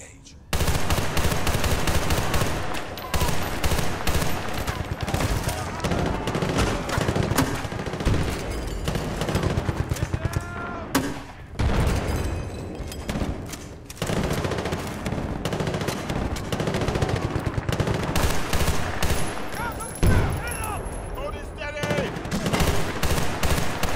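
Rapid gunfire from the video game Battlefield Bad Company 2 campaign, dense bursts of automatic shots and loud reports repeating almost continuously with short pauses between volleys.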